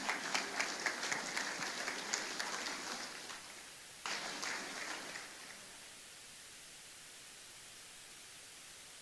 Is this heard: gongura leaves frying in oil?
no